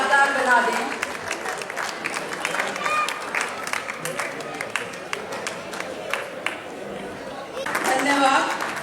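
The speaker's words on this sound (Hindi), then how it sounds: "आइए तालियों की गड़गड़ाहट से इस पल को और भी यादगार बना दें।" Audience applause at an installation ceremony: sustained clapping from a crowd that dips in the middle and swells again near the end, with voices mixed in.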